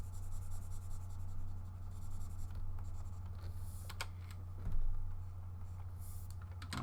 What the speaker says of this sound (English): erasing this before we even draw there because it's inside the drawing